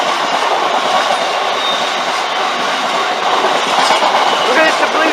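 A freight train, service 6E54, rolls past on a line beside the Humber Oil Refinery sidings, giving a steady, loud rumble with clattering wagon noise that holds throughout without a break.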